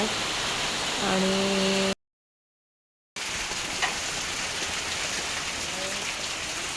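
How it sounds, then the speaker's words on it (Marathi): Heavy rain falls in a dense, steady hiss outdoors, loud and continuous, broken by one silent gap; a voice speaks briefly over it near the start. "आणि असंच पाऊस चालू आहे"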